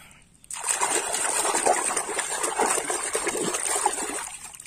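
Water splashes and trickles steadily while toy animals are cleaned, a close, continuous sloshing with small bursts that stops abruptly at the end.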